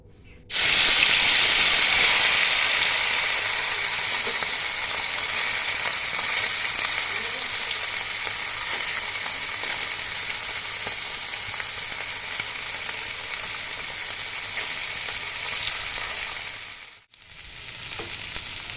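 Small fish dropped into hot oil in a wok burst into a loud, hissing sizzle that slowly settles to a steady crackle, then cuts off briefly near the end before resuming more quietly.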